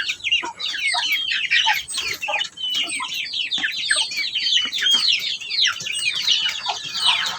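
A flock of native chickens in a backyard makes dense, overlapping chirps and clucks nearby, a continuous busy chatter at moderate loudness with no talking.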